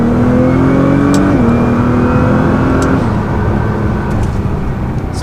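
A Nissan GT-R twin turbo accelerates hard on a highway from a low speed in second gear, the engine note loud and rising steadily, then dropping briefly at a gear change before climbing again.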